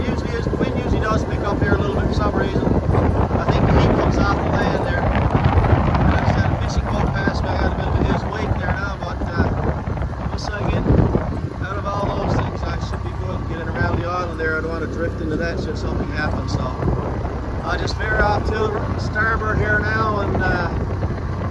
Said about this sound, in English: a little bit of a breeze on here now